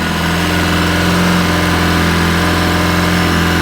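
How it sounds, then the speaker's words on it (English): A Polaris RZR 800S side-by-side engine idles high and steady, a loud continuous drone with a firm low hum and even mechanical ticking throughout, no voices. "Pretty high idle right now."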